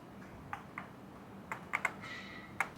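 Keys pressed on an Epomaker Brick 87 mechanical keyboard, a loose caps lock among them: sparse, sharp clacks, single and in quick pairs, close up over a quiet background.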